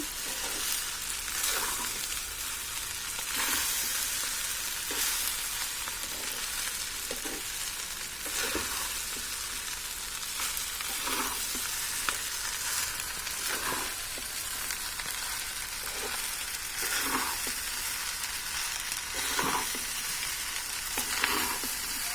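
Fried rice stir-fried in a pan gives a continuous loud sizzle, broken by regular scraping and tossing strokes every second or two.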